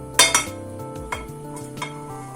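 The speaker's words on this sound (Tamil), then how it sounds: "ஒரு பேன் வச்சுக்கலாம்." A metal pan set down on a stovetop, two sharp clanks close together followed by a few lighter knocks and clinks, heard alone without talk.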